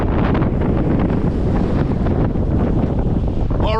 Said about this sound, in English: it is so windy outside right now